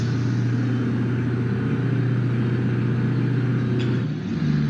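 Truck engine in BeamNG.Drive, an ice timber truck hauled fast through dense fog, giving a steady loud low rumble and drone that holds throughout with a slight dip near the end.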